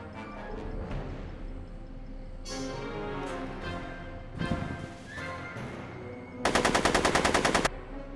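Rapid automatic gunfire from the video game Back to the Future, a loud dense burst late on after scattered shots and impacts over busy game music and effects.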